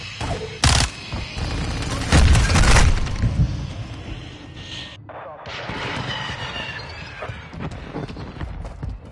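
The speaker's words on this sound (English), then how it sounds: "Throwing Alpha. Grenade!" Grenade blasts in a first-person shooter game, two loud booming bursts close together early on, then rumbling battle noise with gunfire, while game voices call out objectives.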